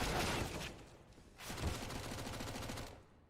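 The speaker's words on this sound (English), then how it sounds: "The SMGs doing bits of damage" SMG gunfire in a Counter-Strike match on the Mirage map, dense rapid bursts of shots that stay loud and continuous, easing briefly before another sustained volley.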